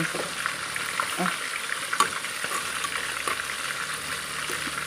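Catfish pieces fry in hot oil in a pan for a coconut-milk curry, giving a loud, steady crackling sizzle with scattered pops and spatters throughout.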